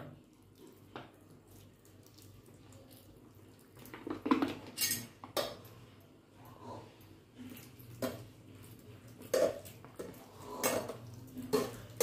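Cold water from the fridge is poured over boiled vermicelli in a pot, heard as faint trickling and splashing among sharp clinks and knocks of utensils and cookware in a quiet kitchen.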